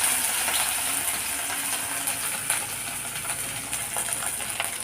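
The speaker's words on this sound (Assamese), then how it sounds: "মাছখিনি মই এতিয়া ভালদৰে অলপমান ভাজি লওঁ" Dried fish fry in hot oil in a wok, giving a steady, close sizzle with scattered crackles and pops throughout.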